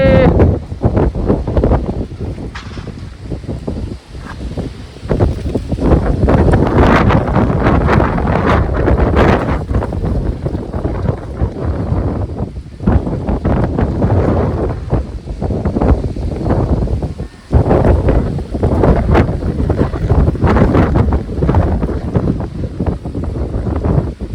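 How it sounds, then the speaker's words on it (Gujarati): Strong gusting wind during an unseasonal storm with rain roars loudly and continuously against the microphone, surging and buffeting in waves with no let-up. "ફૂલ પવન"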